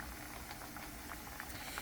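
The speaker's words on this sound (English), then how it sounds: "That's frying" Steady sizzling and crackling of plantains frying in hot oil, a dense continuous hiss with occasional small pops, close and fairly loud.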